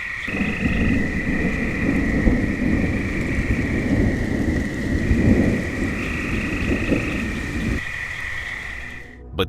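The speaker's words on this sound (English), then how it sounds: "Rain begins to pour and thunder rumbles in the distance." Heavy rain pours steadily while deep thunder rumbles and rolls in the background, with a sustained high tone running over the storm.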